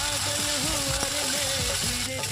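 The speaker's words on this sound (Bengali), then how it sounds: "এবার কড়াতে দিলাম সর্ষে তেল, সর্ষে আর শুকনো লঙ্কা আর একটু কারি পাতা, এবার একটু পেঁয়াজ কুচি দিয়ে দিলাম।" Mustard oil sizzling in a wok with mustard seeds, dried red chillies, curry leaves and chopped onion, a steady frying hiss with scraping stirring strokes at a regular pace and a faint tonal hum running underneath.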